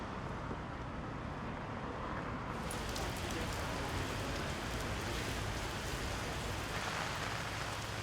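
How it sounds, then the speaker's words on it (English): Heavy rain drenches a city street in a dense, continuous hiss of drops pattering on surfaces, with faint traffic underneath, steady and fairly loud throughout. "Have you ever carefully listened to rain drenching the city?"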